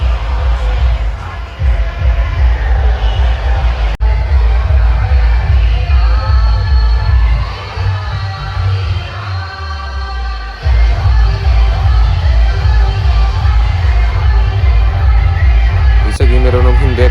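A dense crowd presses close to a DJ setup at a Shiv Jayanti procession in Karad, with booming bass-heavy music pounding loudly throughout and the noise of people mixed in under it.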